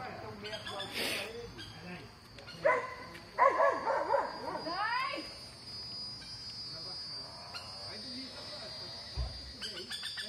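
A dog on a farm in a cattle corral in the morning gives a few short yips and whimpers close by, mixed with people talking and other farmyard noise.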